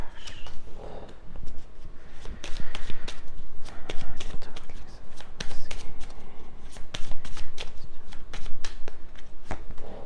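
Oracle cards are shuffled for a tarot reading in a rapid run of crisp riffles and slaps, close and fairly loud, with occasional soft handling in between.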